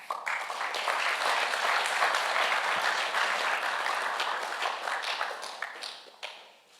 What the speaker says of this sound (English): A big round of applause for Todd Carney.